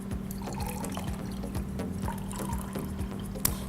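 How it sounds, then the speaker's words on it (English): Homemade garden-fresh lemonade pours into a glass, a soft continuous liquid trickle with faint drips and small clinks, steady and close throughout. "And then you pour that into a glass."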